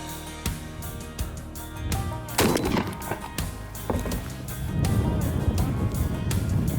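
A gun is test-fired at a target outdoors, producing sharp, loud blasts that stand out over a steady background, with a few shots spread across the moment.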